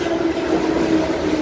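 Relatively modern passenger train riding on rails, a steady continuous rumble and hum of the carriage running throughout, heard from inside at an even loudness with no talk.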